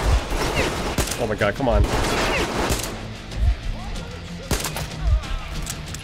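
Rapid bursts of gunfire in the post-apocalyptic shooter Metro Exodus, loud and dense with sharp cracks, while a man reacts excitedly over the shots.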